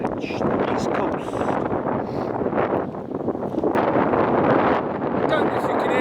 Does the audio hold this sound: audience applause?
no